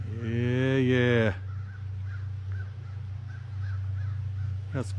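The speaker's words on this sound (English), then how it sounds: "Got some crows over there going wild, chasing each other around" Loud harsh crow caws up close for the first second or so, then quieter caws repeating in the distance over a steady low hum, on an island on a stormy day.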